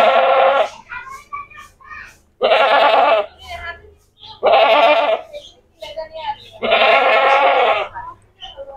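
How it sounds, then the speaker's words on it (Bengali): A goat at a cattle market before Eid ul-Azha bleats loudly in four long, strained calls, close by, with quieter crowd chatter and shorter bleats filling the gaps between them. "ছাগলটি খুব চিৎকার করছে"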